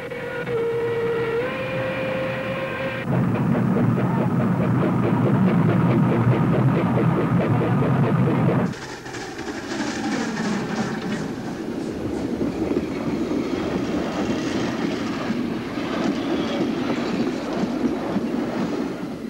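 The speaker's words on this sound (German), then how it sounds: "schneller dürfte die kleine Lok gar nicht fahren" A small steam locomotive runs on rails, giving a loud rhythmic rolling clatter with a tonal whine at the start, then a shift to a steadier, softer rumble of moving carriages.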